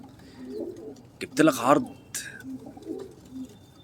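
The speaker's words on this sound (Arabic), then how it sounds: "بيع حمام جميل." Pigeons offered for sale coo softly in the background while someone speaks, with a couple of brief louder bird calls rising above the talk.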